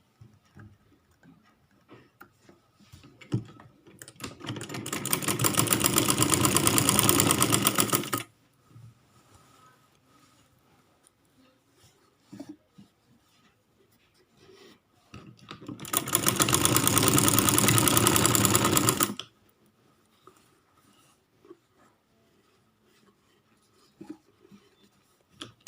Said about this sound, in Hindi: ये देखें, अब हम इसकी सिलाई लगाने लगे हैं।